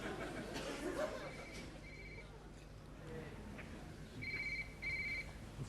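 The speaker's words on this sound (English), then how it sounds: "Find the phone under your seat there that's ringing." A mobile phone hidden under a seat in a lecture theatre rings in short repeated electronic bursts, fairly faint among murmuring, rustling and a little laughter from the audience.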